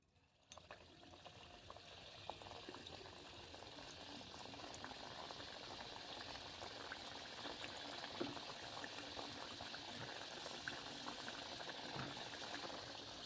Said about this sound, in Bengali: আমি এবারে একটা একটা করে তেলের মধ্যে ছেড়ে দেবো